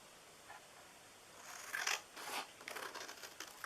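Scissors snip through the flap of a paper treat box, a few quiet cuts building into a quick series of crisp slicing snips close by.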